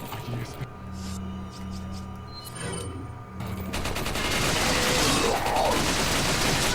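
A Tommy gun fires in the Resident Evil 4 video game, a loud rapid burst that starts near the end after quieter game sounds, with people talking over it.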